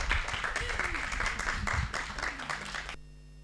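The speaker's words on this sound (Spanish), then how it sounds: "Yo misma nos pido un aplauso para todas" Audience applause closing a seminar on childhood and care policies, a roomful of hands clapping steadily for about three seconds before stopping abruptly, with voices mixed in.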